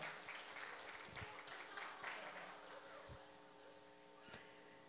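A church congregation at a Sunday youth service claps on cue, a soft, distant, even patter of many hands with a low hum in the background and no speech over it.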